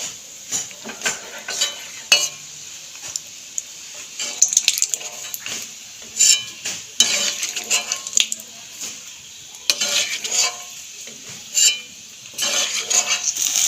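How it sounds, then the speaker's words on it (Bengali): Peanuts frying in hot oil in a pan, with a continuous soft sizzle broken by repeated scraping and clinking of a utensil stirring against the metal, fairly close and with no talking. "বাদামগুলোকেও ভেজে নিলাম"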